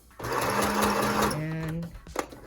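Sewing machine back stitching on a homemade fabric face mask near the elastic, a close steady mechanical whirr that changes pitch as it reverses, stopping abruptly with a few small clicks after.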